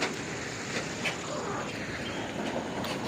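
Loud, continuous rumbling of a train passing a railway level crossing with rattling rail clatter, steady throughout and fairly close.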